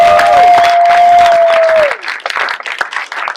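Audience applause at an award night, loud and dense for a few seconds, with a sustained tone over it at first, then thinning toward the end.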